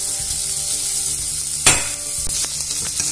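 Ginger garlic paste sizzles steadily in a frying pan with green chili, stirred by a utensil that scrapes once sharply midway and taps lightly near the end, without anyone talking.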